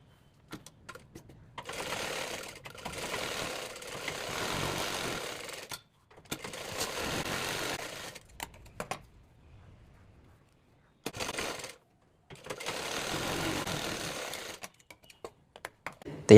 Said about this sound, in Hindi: अब मार्क के हिसाब से हम यहाँ पर सिलाई दे देंगे।